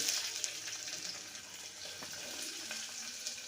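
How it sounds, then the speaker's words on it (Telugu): Ginger, black pepper and onions fry in oil inside a pressure cooker on a home kitchen stove. The sizzle is quiet and steady and runs the whole time, with no talking over it. "పచ్చిమిర్చి వెన్నీ వేసేసుకొని బాగా వేయించుకోవాలి"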